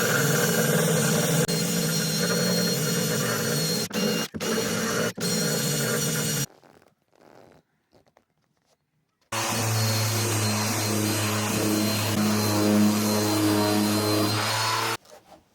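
A power sander works the fairing compound in the corners of a yacht's deck and cockpit, giving a loud, steady, motor-driven whine that stops abruptly for a few seconds and then starts again.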